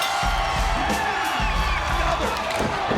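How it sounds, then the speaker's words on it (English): Wrestling arena crowd cheering wildly at a TNA event, a dense, loud, continuous roar of shouts and whoops with no pauses. "Crowd going crazy."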